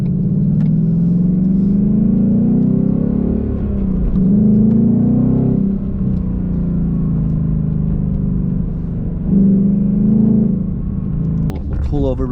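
A 2020 Oxford White Mustang GT, naturally aspirated, pulling hard: a loud, steady engine drone that rises in pitch through each gear, drops at the shifts and climbs again, heard from inside the car.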